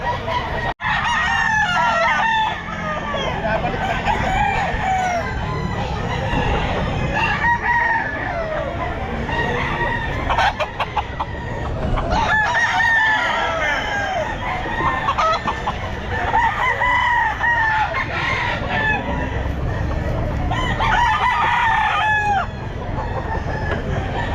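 Several roosters, including gamecocks, crowing repeatedly and overlapping at the Grotto pet market, with clucking among them, loud and continuous against a busy crowd background and some faint talk.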